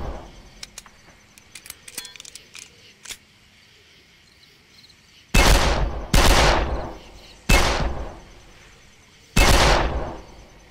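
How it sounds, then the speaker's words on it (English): Fully automatic C-96 pistol fire in the video game Darkest of Days: four loud rattling bursts, each about half a second long, after a stretch of quieter clicks and ambient game sounds. "this model of the C-96 is fully automatic"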